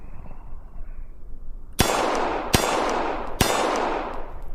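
Three sharp metallic clangs of shots striking steel silhouette targets in a VR shooting app, spaced under a second apart, each ringing out loudly over a low background hum.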